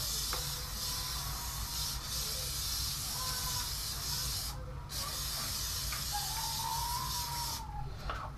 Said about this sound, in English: Oh, spraying that shit everywhere.